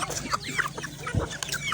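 Pet chickens cluck and chatter close by in a busy flock, with overlapping short calls and bird noises over a low steady background hum.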